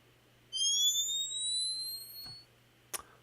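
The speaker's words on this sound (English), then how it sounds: "When you drop them, it does not immediately blow up. It gives you about a second to get away from them, and it plays this fuse sound." A video game bomb fuse plays as electronic tones gliding steadily upward for about two seconds, followed by a short sharp click.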